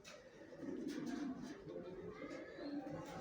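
Racing pigeon chicks coo in low, throaty bursts, close by and repeated, with a faint voice in the background.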